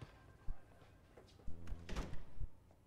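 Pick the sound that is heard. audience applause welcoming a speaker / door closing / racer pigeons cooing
door closing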